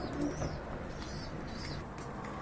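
Pigeons coo at a loft of racing birds, soft low calls repeating close by over a steady background murmur of other birds.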